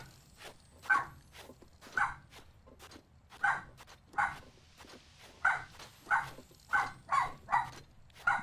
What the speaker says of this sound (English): barking at the ghost again